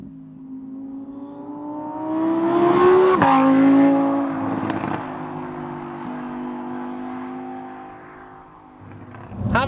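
Lamborghini Huracan EVO RWD coupe (2021) revving its engine while being driven, loud and close, with a rising rev sweep, a sharp shift, then a sustained drone before another surge at the end.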